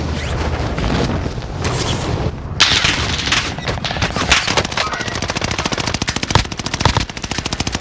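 Rapid automatic gunfire in Call of Duty Warzone, loud and close, with sustained bursts of rattling shots and heavy booming impacts running continuously throughout.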